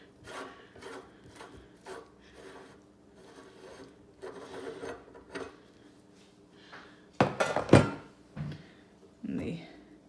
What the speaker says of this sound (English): First you unscrew the faceplate here.